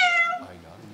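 A senior female cat at an animal adoption center gives a single clear meow that trails off into lower sound, with no talk over it.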